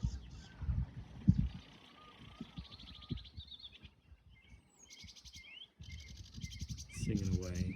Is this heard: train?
no